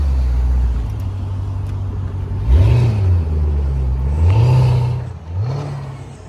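A wrecked Ford Mustang's engine idles with a deep rumble and then revs up in three rising and falling pulls while a burnout is attempted, loud and close.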